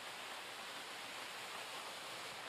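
A waterfall dropping 900 to 1,000 feet, heard as a steady, even hiss of falling water, faint and distant, unbroken throughout.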